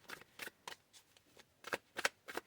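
Tarot cards riffle and snap in a quick, uneven series of soft bursts, close and quiet, as the deck is shuffled during a reading.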